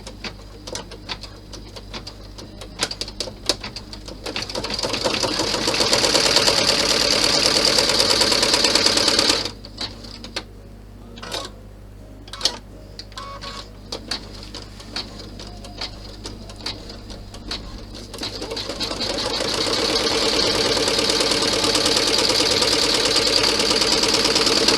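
Domestic sewing machine stitching a compact bag, running in steady bursts of rapid mechanical whirring that stop for a quiet pause with small handling clicks, then resume and run continuously.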